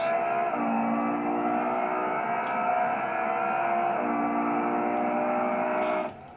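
In BeamNG.drive a car accelerates hard, its engine droning steadily with a rising tone through a gear shift before cutting off abruptly, loud and close.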